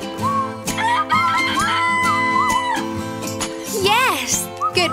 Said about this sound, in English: Oh, there's Mr. Rooster.